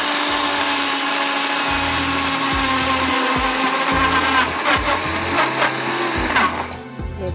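A Super Asia electric mixer grinder whirs loudly and steadily grinding spices, its motor pulsing in short bursts before spinning down near the end.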